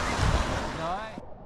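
Lake waves wash onto a beach at Indiana Dunes National Park, a loud continuous rushing surf mixed with wind buffeting the microphone, with a brief voice near the end before the sound cuts off.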